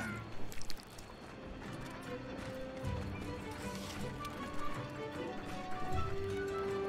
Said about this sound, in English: I love watching the cat cook.